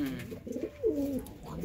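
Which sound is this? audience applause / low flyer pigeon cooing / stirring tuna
low flyer pigeon cooing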